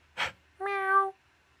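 A person imitates a cat with a single drawn-out, wavering meow, close and fairly loud, preceded by a short sharp breath.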